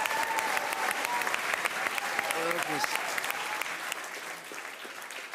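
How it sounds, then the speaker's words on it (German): Loud audience applause at a comedy roast battle show, dense sustained clapping from a studio crowd with a brief spoken word and some cheering over it, easing slightly toward the end. "Großen Applaus."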